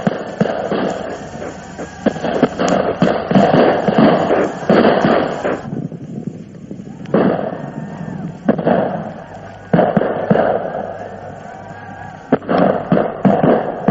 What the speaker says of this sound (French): Qu'est-ce que ça veut dire, cette fusillade